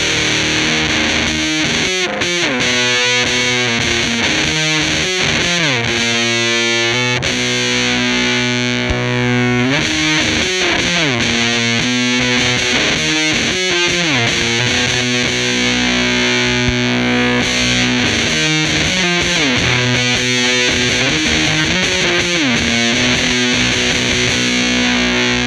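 A Jazzmaster with noiseless wound pickups through a Boss TB-2w Tone Bender fuzz pedal run at 7 volts: a thick, saturated, sustained fuzz guitar playing continuous chords and riffs, loud and dense throughout.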